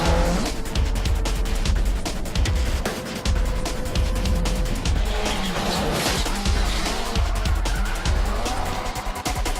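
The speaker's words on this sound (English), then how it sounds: "The sprawling parking lot of Robinson San Fernando again is filled with sounds of revving engines and squealing tires." Slalom race cars run a course laid out on a sprawling shopping-mall parking lot, engines revving hard and tires squealing in continuous loud bursts, with gear changes and a steady roar throughout.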